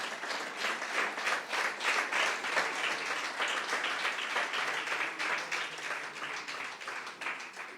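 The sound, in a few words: church congregation applause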